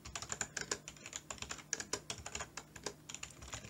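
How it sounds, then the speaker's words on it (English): Numbers are typed on a computer keyboard into a Microsoft Excel spreadsheet, producing a steady, close run of quiet, crisp key clicks with no talk. "I'll just type in some numbers"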